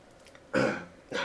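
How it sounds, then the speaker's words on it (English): A person clears their throat with two short, rough coughs, close to the microphone, separated by about half a second of quiet. "got a bit of a cough."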